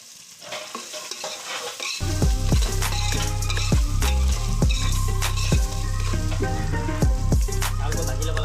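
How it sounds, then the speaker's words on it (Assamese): Rice sizzles as it fries in hot ghee for pulao, a steady crackling hiss rising sharply after a quiet start, with repeated scraping of a spoon stirring through the pan close up. "চাউলটো ভাজি ল'ব লাগে ঘিতে"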